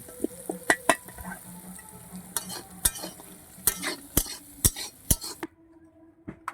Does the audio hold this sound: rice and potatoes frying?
yes